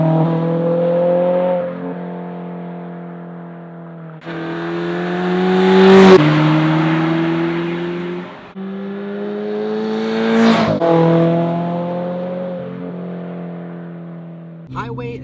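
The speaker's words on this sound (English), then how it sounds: "Highway sound test, MBRP exhaust, axleback exhaust, rolling." Subaru BRZ with an MBRP axleback exhaust roaring past in repeated flybys, each pass swelling to a loud, harmonically rich drone and fading away, close up with no talk.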